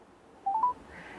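A short run of telephone dialing tones right after pressing call in the T Phone app, a few quick rising beeps that are close and clear over a quiet background.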